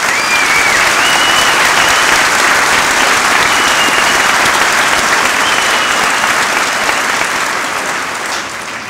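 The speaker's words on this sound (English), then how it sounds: "I think she deserves a big round of applause this evening" Loud, sustained audience applause at a high school commencement ceremony for the class of 2004, a large crowd clapping densely and evenly for the school secretary, tapering slightly near the end.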